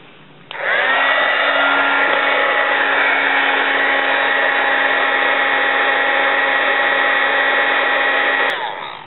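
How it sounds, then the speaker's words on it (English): An embossing heat gun runs steadily for about eight seconds, a loud, even whir with a high whine, heat-setting embossing powder on a paper card. "I'm going to heat set that with my embossing gun"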